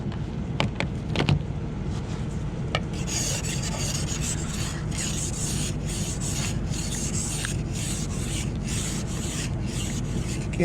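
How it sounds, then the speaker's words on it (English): Small ice scraper rasping ice off a car windshield in winter, repeated loud close strokes in a steady rhythm after a few scattered knocks. "Luckily, I have this little scraper."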